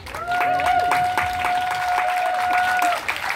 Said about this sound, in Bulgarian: аплодисменти за Калин Кирилов, калата от група Нема какво